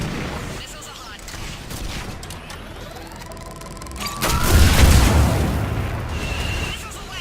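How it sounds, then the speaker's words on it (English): Missiles launch in the Mass Effect 3 battle for Thessia: a rising whoosh sweeps up into a loud, rumbling burst of booms, set among ongoing combat noise and blasts. "Missiles are hot."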